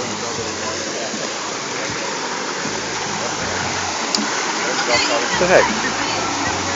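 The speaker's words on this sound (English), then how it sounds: "So we heard the waterfall, and there's people here." A small waterfall at the end of a long hike gives a constant rushing, splashing roar, with people talking nearby over it.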